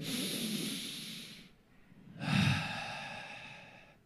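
A person takes two slow, deep breaths, a long exhale followed after a short pause by a strong, noisy inhale and exhale, close and fairly quiet with no talking.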